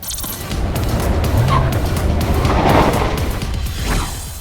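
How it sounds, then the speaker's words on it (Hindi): A 2020 Hyundai Tucson facelift diesel with all-wheel drive is driven off-road over dirt, its engine a steady loud rumble with tyre and gravel noise throughout, swelling slightly mid-run. "तो हम शुरुआत इसके ऑफ रोडिंग ड्राइव से ही करते हैं।"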